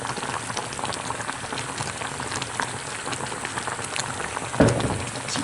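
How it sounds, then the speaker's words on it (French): Caramel and apples bubbling hard in a pan for tarte tatin right after water is added, a dense, continuous hiss and crackle with rapid popping bubbles and one sharper spatter burst near the end. "Quand mon sucre commence à tourner au caramel, je rajoute un peu d'eau"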